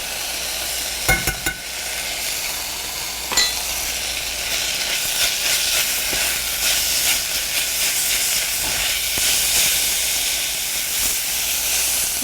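Minced garlic and ginger sizzle steadily in hot oil at the edge of a pan, a loud continuous frying hiss with a few sharp pops and clinks near the start.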